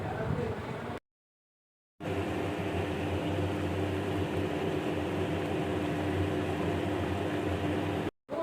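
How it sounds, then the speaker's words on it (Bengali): Posto potol, pointed gourd cooked with ground poppy seed paste, simmering in a pan: a steady, close hiss with faint continuous bubbling under a low hum, cut by a second of silence near the start and a brief dropout at the end. "এবারে বেশ খানিকক্ষণের জন্য আমি এটাকে ফুটতে দেব।"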